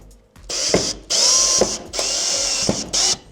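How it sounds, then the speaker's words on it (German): A power drill drives screws into a standing seam metal roof panel, giving three close, loud whirring bursts, each separated by a brief pause. "diese Platte werden wir jetzt einmal verschrauben"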